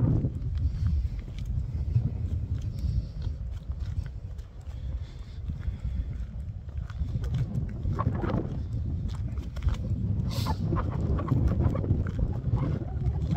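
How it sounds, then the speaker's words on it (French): Wind buffets the microphone throughout, a low rumbling roar with gusty fluctuations and occasional thumps. "Oh là, il y a du vent."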